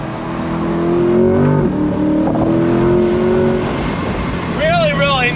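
A 2022 Chevrolet C8 Corvette downshifts with quick engine blips, then its engine note climbs steadily under hard acceleration, loud and close, with a voice speaking over the rising roar.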